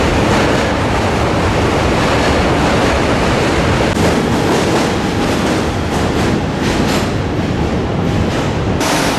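A New York subway train rumbles loudly across a bridge beside the Brooklyn Bridge, a dense, steady roar of rolling wheels and rattling metal filling the whole stretch.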